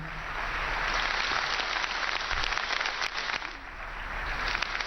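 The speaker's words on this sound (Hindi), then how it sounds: "एक बार फिर से हमारे सर्वप्रिय प्रधानमंत्री के लिए जोरदार तालियां हो जाएं।" A large crowd at a birth centenary function in Jammu gives the Prime Minister a steady, continuous roar of applause, with a faint low hum underneath.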